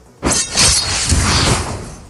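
A zombie's body cracks and shatters apart, a sudden loud burst of crunching, splintering debris that starts abruptly and sustains a dense, crackling rumble to the end.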